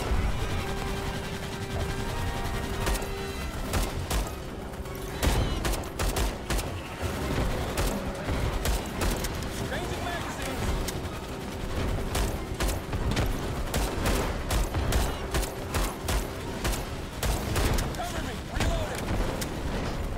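Pistol fire in the sci-fi shooter Starship Troopers: Extermination, sharp single shots popping repeatedly and irregularly over a dense, loud battle din of other weapons and effects, with someone talking at times.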